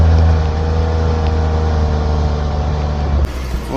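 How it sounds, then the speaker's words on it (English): A mini truck with a diff lock that is not working, its engine revving hard and loud as the wheels spin in wet, slick, deep snow, holding a steady drone before the pitch drops off near the end. "Minitruck don't play around. Got them wheels spinning."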